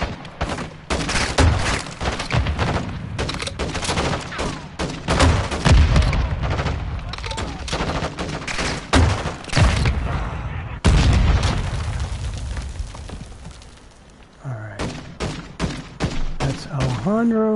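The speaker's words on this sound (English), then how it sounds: "You see if I can throw some grenades at him." Dense bursts of gunfire and booming grenade explosions from a PS4 shooter game, loud and rapid, with a short pause before more shots.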